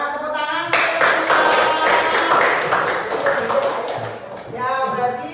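A class of students claps their hands together in a dense, fairly loud burst of applause lasting a few seconds, with a voice speaking before and after.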